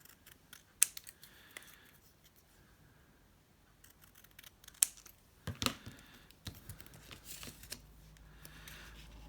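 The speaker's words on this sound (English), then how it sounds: "And cut around it. But I'm just going to leave a little bit of a border." Scissors cutting around a paper piece for a handmade love letters journal, leaving a small border; a few faint snips come in scattered clusters over a quiet indoor background, with no talking.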